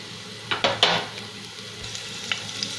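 Chopped green chillies go into frying masala with grated ginger for rajma curry, a soft sizzle with a few quick stirring clatters against the pan near the start, then a quieter frying hiss.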